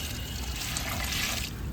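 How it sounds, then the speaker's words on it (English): Water poured into a DIY vermicompost bucket holding a giant earthworm, a steady close trickle and splash that runs continuously without pause. "Some more water. Let there be water."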